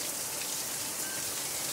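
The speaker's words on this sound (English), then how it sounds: "We're having a beautiful shower this morning." Steady morning rain shower falls on a garden fitted with a bucket watering system, giving an even, continuous hiss of drops on surfaces with no voices.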